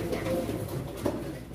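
Pigeons coo softly at a pigeon auction, a low murmuring bird sound beneath the indoor crowd noise and voices of bidders.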